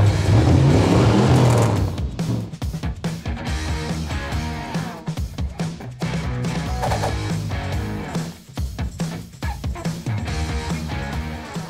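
A loud Holden BT1 street car engine with a manual gearbox roars and revs up close, with rising and falling bursts of throttle that stay dense and continuous throughout.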